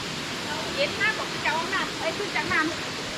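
Steady broadband rush of water flows at a hot spring waterfall in Krabi, Thailand, heard close and continuous beneath someone talking.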